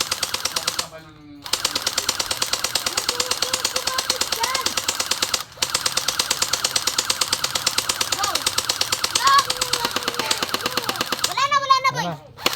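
An airsoft gun fires long full-auto bursts of rapid, evenly spaced clicking shots, loud and close, with short pauses between strings. Voices talk over and between the bursts.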